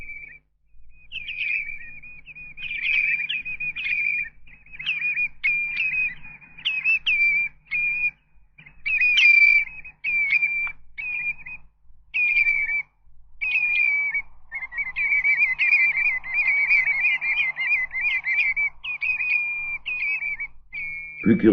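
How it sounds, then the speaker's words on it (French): Common redshanks on a seashore give clear, repeated whistling calls in quick bouts, bright and fairly close, building into a longer continuous trill near the end. "Même le rivage marin peut être agrémenté de sons mélodieux, tels les sifflets des chevaliers gambettes."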